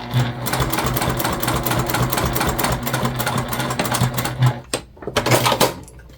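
A sewing machine stitches a small fabric Aida mini bag in a steady, close, continuous mechanical whir, pausing briefly near the end before running again.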